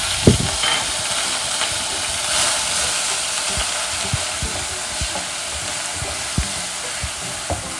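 Grated onion for rajma biryani fries in hot oil with a loud, dense sizzle broken by occasional clinks and scrapes of stirring.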